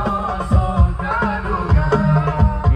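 A sholawat song plays through newly fitted rear speakers in an Isuzu Panther, with the singing and a thumping beat coming through continuous and fairly loud inside the car.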